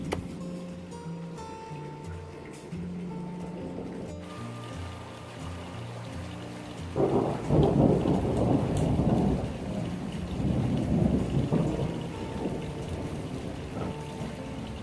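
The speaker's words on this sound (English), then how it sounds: "a thunder and lightning storm in the summer" A summer thunder and lightning rainstorm, where a long rolling thunder rumble is followed by a burst of heavy rain pattering on surfaces, with the downpour swelling loud and then holding steady.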